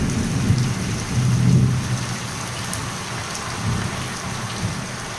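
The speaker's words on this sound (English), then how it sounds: "Oh, here it is, the rain." Steady rain falling over Medjugorje with low rumbling thunder rolling in the distance, a continuous hiss of drops with deep swells of thunder rising and fading across the scene, no voices.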